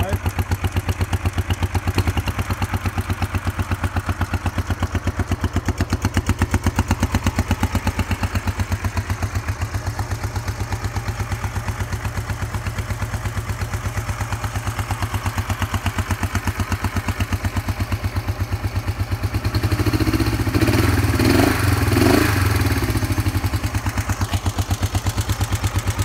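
A 1972 Honda CL450 Scrambler with a double overhead cam engine idles steadily close by, a continuous low throbbing rumble that briefly swells louder near the end.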